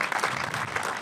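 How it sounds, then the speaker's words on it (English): A crowd at a community center opening gives a brief burst of dense, steady applause, many hands clapping at once, loud and sustained with no gaps. "So I would just like you guys to give them a big round of applause"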